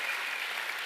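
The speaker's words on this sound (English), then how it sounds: "give another round of applause, folks" A brief burst of sustained crowd applause greets a guest at a live Mayo supporters' event ahead of a Gaelic football match, a dense even wash of clapping with no break.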